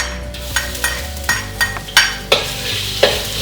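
Ginger sizzles and fries in a pan for Chinese fried rice, a steady crackling hiss broken by repeated sharp scrapes and clinks of a utensil stirring against the pan.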